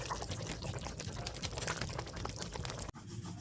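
Hot water is poured into a pot of chicken curry, a quiet, steady splashing rush that runs without a break, then a brief sharp knock near the end. No one speaks.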